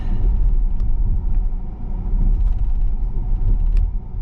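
An electric car cruises along a road toward Warsaw, giving a steady low rumble of tyres and road noise that stays loud and even throughout, with a few faint higher ticks on top and no talk.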